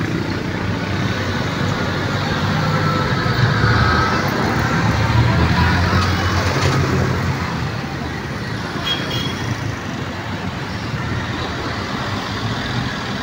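Road traffic rumbles along Sumulong Highway in Barangay Mambugan, Antipolo City, with trucks, buses and cars passing in a steady broad roar that swells midway, plus a faint horn toot.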